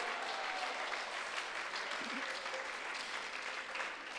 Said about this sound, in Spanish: ¿Cuántos pueden darle un aplauso, una alabanza, un reconocimiento a Dios?